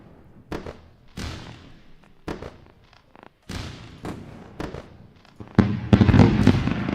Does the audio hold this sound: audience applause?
no